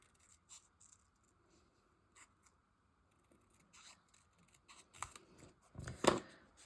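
Scissors cutting out paper, soft sparse snips and rustles that build into a few sharper, louder cuts near the end, close and quiet with no voices.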